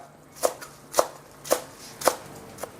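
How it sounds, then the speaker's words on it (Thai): Five evenly spaced knife chops through sawtooth coriander strike a cutting board, crisp and close, with quiet pauses between. "หั่นเป็นท่อนๆครับ"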